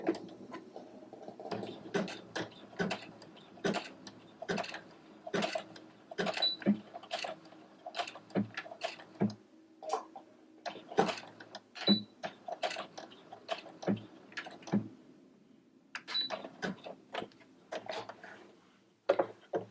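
A sewing machine with a button sew-on presser foot stitches a button in place, a quiet irregular series of sharp clicks and needle taps, sometimes in quick bursts, close to the microphone with no talking.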